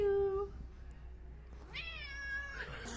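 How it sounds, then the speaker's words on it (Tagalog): A cat meows twice, first a short call and then a longer, rising meow, fairly close over quiet background noise. "Oh, ang cute ng mga pusa talaga."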